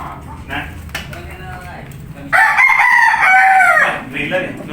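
A rooster on a small backyard farm with hens gives a loud, close crow lasting over a second. Softer clucks come before and after, and people can be heard talking nearby.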